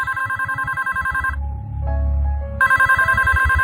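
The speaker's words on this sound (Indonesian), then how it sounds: "telepon itu berbunyi lagi." A telephone rings in a room, loud, close and repetitive, pausing briefly midway before the ringing resumes.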